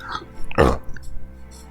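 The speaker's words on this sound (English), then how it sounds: "As I burp into the microphone, ruining all the suspense." A single loud, close burp into a microphone, a short throaty belch in the middle of an otherwise quiet stretch with faint background tones.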